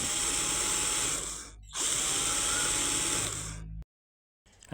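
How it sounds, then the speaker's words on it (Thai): A power drill bores a hole into a plastic basin being made into a self-watering vegetable planter, whining loudly in two long bursts separated by a brief pause, then cutting off abruptly into silence. "เริ่มไหมครับเจาะรูนะครับ"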